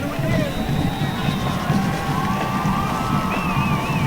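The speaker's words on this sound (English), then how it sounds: "Home crowd making it loud again." A home crowd at a high school football game keeps up a dense, constant roar of cheering and hubbub, with an announcer talking over it throughout.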